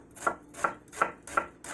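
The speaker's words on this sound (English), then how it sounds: "We're going to cut with the grain." A knife slices an onion with the grain in five crisp, evenly spaced cuts, close and fairly quiet, with no voices.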